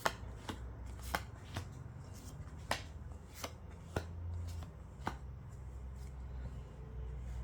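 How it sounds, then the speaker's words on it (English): Tarot cards are shuffled up close in a series of crisp riffling snaps at irregular intervals over a soft background hum, with no talk. "Let's lay down your cards."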